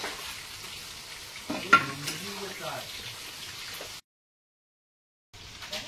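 A fish head is stirred into spices frying in a pan, a broad sizzle with a sharp clatter near the middle, then a brief silence before the frying resumes.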